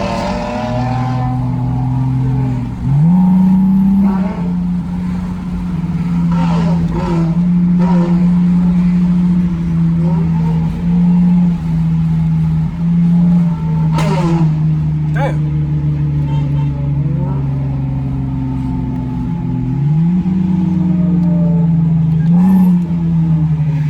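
Dodge Challenger and Lexus IS300 engines rev with a loud, steady drone that surges repeatedly, with sharp rises near the start and again later, heard close up throughout.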